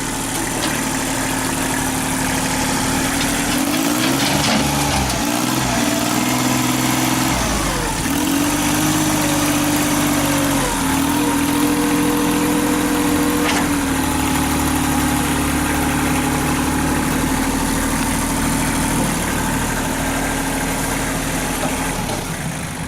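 A 1954 Packard engine runs steadily and loudly close by, a continuous droning rumble with a low throb and slight shifts in pitch over its whole length.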